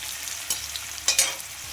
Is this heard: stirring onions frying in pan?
yes